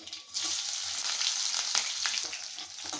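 Mustard seeds and dried chillies fry in hot oil in a home kitchen, giving a steady crackling sizzle with small pops and spatters, close and fairly quiet, no voices.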